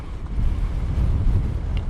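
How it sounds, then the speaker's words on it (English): Strong wind buffets a microphone, a loud, rumbling roar that rises and falls unevenly for a couple of seconds. "because it's so windy"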